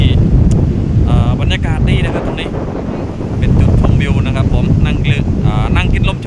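Strong wind buffets the microphone by the sea at Laem Son beach in Rayong, a steady roar with gusts, under someone talking throughout.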